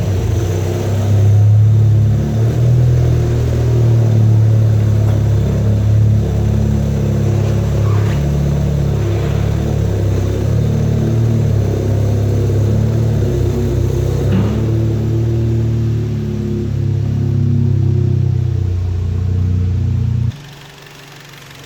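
Stage 3 Seat Leon Cupra with a 450bhp hybrid turbo engine running on a dyno, a loud, close, steady engine drone with slight shifts in pitch that cuts off abruptly near the end.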